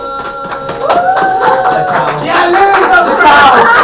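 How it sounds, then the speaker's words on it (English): A classroom crowd clapping and cheering, close and fairly loud, with many voices chattering and calling out over the steady applause throughout. "round of applause for the dogs"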